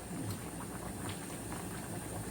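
Beef soup simmering in a pot over low heat, a steady close bubbling and gentle popping that runs on alone without pause.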